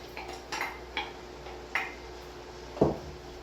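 Carrots, peas and corn are stirred in a pot, heard as a handful of faint, sparse clinks and taps of a utensil against the pot over a quiet background, with one firmer knock near the end.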